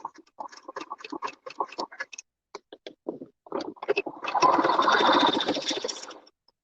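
Domestic sewing machine running a zigzag stitch over waistband elastic, heard first as a series of short stop-start bursts and then a steady, louder whirring run of a couple of seconds, close up.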